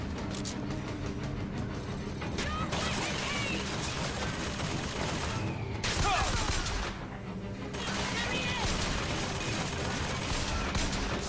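Gunfire from BioShock Infinite rattles steadily through a busy game soundscape, repeated shots layered over constant noise and effects at moderate level with no letup.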